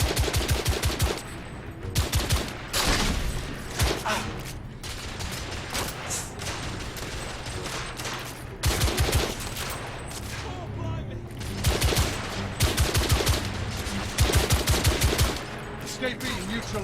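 Rapid bursts of automatic gunfire from the video game The Order: 1886, loud and repeated in clusters with brief pauses during a cover-based shootout.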